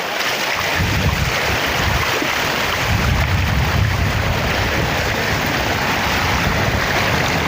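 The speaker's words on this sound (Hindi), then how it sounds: "ये देखें जी बहुत ज़्यादा बहाव है पानी का" Fast-flowing flood water of the Sutlej river rushes in a dense, continuous roar, loud and close, with wind buffeting the microphone throughout.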